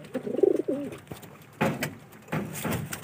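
Pigeons coo in soft, throaty bursts, first a rolling coo, then two more breathy calls, close by with faint background noise.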